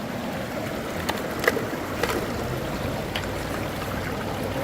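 Water flows over rocks and gravel in Mill Creek in the Highlands of California, a steady rushing wash with a few faint clicks and splashes and no voices.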